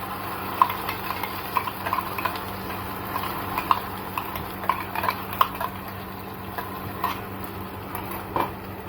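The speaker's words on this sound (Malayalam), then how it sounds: "ഇത് ഒന്ന് നമുക്ക് ഇളക്കി കൊടുക്കാം." Beetroot paste being stirred into beetroot rasam in a pan, soft steady stirring and light sizzle with irregular small ladle taps and clicks, close and moderately quiet.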